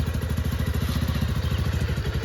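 A motorcycle turning around idles and revs close by with a steady, throbbing rumble and some rattling clatter.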